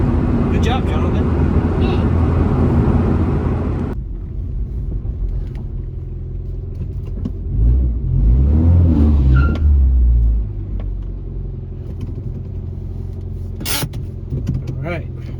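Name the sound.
1994-97 Honda Accord engine running with newly installed header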